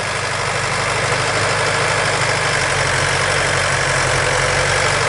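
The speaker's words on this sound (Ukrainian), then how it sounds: "Трактор ДМТЗ 544Х. 50 кінських сил." A DMTZ 544X 50-horsepower mini tractor's diesel engine runs at a steady idle during break-in, loud and close, with a constant low throbbing drone and no pauses.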